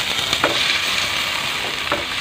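Tomatoes sauté with garlic and onion in a pan for sarsiadong isda, a loud, constant sizzle broken by a few brief scrapes of stirring, close up with no speech.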